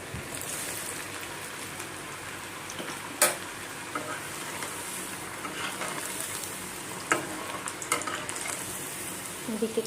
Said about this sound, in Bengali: আপনাদের জন্য কয়েকটা ফ্রেঞ্চ ফ্রাই বানিয়ে নিচ্ছি।